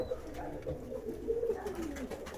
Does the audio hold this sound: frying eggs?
no